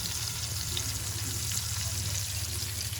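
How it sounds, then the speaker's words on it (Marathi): Bombil and halwa fish frying in a pan of oil, giving a steady, close, dense sizzle that holds at an even level throughout with no talk over it. "हे हलवा फ्राय आणि हा हे बोमिल फ्राय"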